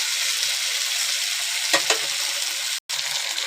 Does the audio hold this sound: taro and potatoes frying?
yes